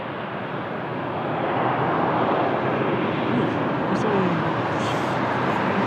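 An F-16 fighter jet at Lisbon Airport makes a broad, continuous roar that swells after the first second and holds loud and steady.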